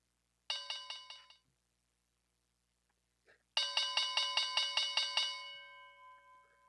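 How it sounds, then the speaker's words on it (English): A bell marking the start of after-hours stock trading rings in two bursts of rapid, bright metallic strikes: a short run of about five, a pause, then about nine louder strikes whose final ring fades out. "This is the bell of the after hours trading."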